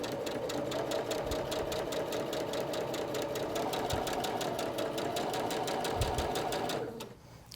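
A sewing machine stitches quilt fabric pieces for no-waste flying geese blocks, with fabric fed evenly under the presser foot. The motor whirs steadily at close range with a rapid needle rhythm, then stops abruptly near the end.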